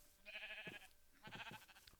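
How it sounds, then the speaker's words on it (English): Sheep bleating in the Minecraft video game, a few wavering game-sound bleats in a row, fairly close and clear with no talking over them. "And a lot of sheep around."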